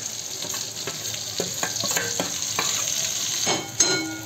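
Eggplant curry with spice paste being stirred in a frying pan, soft sizzling under repeated scraping and clattering strokes of a spoon, close and steady with a sharper knock near the end.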